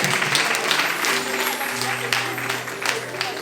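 A church congregation applauds and cheers during a sermon, a dense wash of clapping with a preacher's voice and crowd voices mixed in, loud and close.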